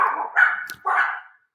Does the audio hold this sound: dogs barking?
yes